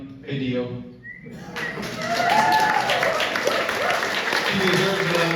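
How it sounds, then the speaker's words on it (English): A voice speaks briefly before an audience at a political speech breaks into sustained, full applause that fills the room with steady clapping and a few cheers. "He deserves a round of applause."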